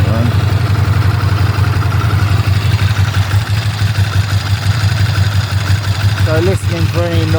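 A 1998 Ducati ST2 motorcycle engine idles after a winter start-up, a loud, steady low rumble with a clattering dry-clutch rattle, holding close and even throughout while someone speaks briefly near the end.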